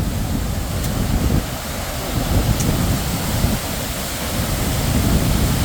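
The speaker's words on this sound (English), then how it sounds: "Look at the waterfalls." A waterfall in a park at Lara Beach, Antalya, gives a steady, broad rushing roar of falling water, continuous and fairly loud throughout with no voices.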